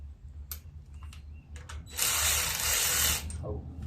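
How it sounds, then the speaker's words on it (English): A power tool tightens bolts on the carburetor of an 8-horsepower Coleman generator. Short ratcheting bursts give way to a louder sustained whir of about a second, against quiet background hum. "So I'm going to go ahead and tighten them down."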